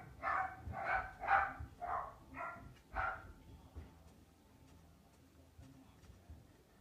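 A pet dog barks in a quick series of five or six sharp barks, fairly close and moderately loud, then falls quiet with faint room noise and soft ticking after.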